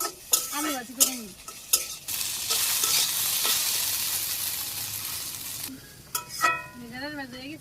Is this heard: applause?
no